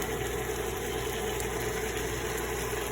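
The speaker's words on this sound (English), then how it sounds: "So I'm actually going to turn my KitchenAid off." KitchenAid stand mixer whipping low-carb keto strawberry ice cream base, a steady, continuous motor hum with a constant whine, running alone without pause for the whole stretch.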